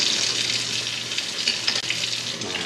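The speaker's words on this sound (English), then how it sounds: "next step is to thoroughly clean the seat pan off" A motorcycle seat pan for a Husqvarna FE is scrubbed with soap and water, giving a loud, steady, close hiss of running water and wet scrubbing that barely changes throughout.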